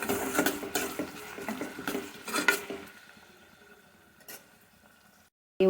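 Onions fry in a pan for mutton curry gravy while a utensil stirs and scrapes against the metal. The clatter and sizzle are busy at first, then fade to a quiet hiss near the end.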